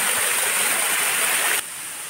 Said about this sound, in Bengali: না ভাই এই ঝর্ণা এখান থেকে আছে।